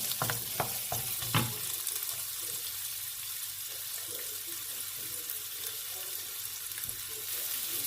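Carrots stir-fry in a pan for fried rice, giving a steady close sizzle with a burst of quick utensil clacks at the start, then softer scraping and hiss throughout, with no voices.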